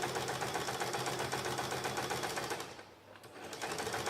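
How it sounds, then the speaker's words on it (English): A sewing machine stitches binding along the length of a quilt, a fast and steady mechanical whir heard close up, which slows and dips briefly near the end before it picks up again. "Stitch all the way down the length of your quilt."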